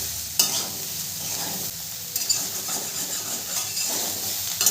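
Soybean chunks and potatoes frying in mustard oil in a kadai give off a steady, close sizzle, with occasional clinks of a stirring spoon and no voices.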